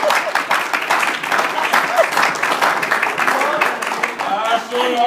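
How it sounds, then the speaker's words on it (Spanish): A church congregation claps and applauds loudly, the dense clapping mixed with voices calling out and talk over it, continuous from start to finish. "Den un aplauso al Señor."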